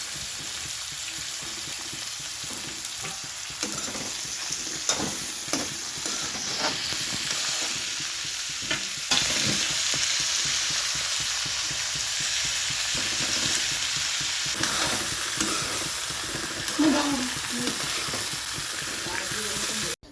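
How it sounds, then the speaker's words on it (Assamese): Vegetables with pumpkin frying and sizzling in a pan, a steady hiss with stirring scrapes throughout, close and loud, with no talking. "মই চব্জি বনাই আছোঁ ৰঙালাওখিনি আগে দি লৈছোঁ"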